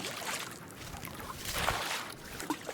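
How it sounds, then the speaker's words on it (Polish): A fishing boat on a river pushed along by a narrow oar, with faint watery sloshing and soft knocks, quiet and close, no voices. "Jeden odpycha łódkę przy pomocy wąskiego wiosła."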